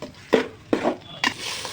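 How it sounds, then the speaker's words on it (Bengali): Potatoes with spices being stirred and sautéed in a pan: three close, distinct scraping strokes in a slow, even rhythm, with no talk. "সেই আলুটা দিয়ে দিলাম। ভালো করে কষিয়ে নিতে হবে।"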